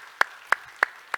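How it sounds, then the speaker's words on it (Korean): A church congregation claps together in unison: four sharp, evenly spaced claps ring out in a steady rhythm with quiet between them. "모두를 우리 격려하고 축복하는 마음으로 한번 박수 한번 합시다."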